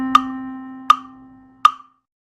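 A musical whole note is held as one sustained tone that slowly decays, while three sharp, evenly spaced clicks mark the beats, heard clearly with no talking.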